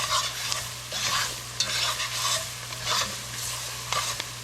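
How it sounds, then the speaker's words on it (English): Chopped onions stirred into a hot roux in a pot with the burner off, for Southern chicken and dumplings: a steady wet sizzle runs throughout, with repeated scraping strokes of the spoon and a faint low hum underneath. "I'm just mixing my onions into my roux."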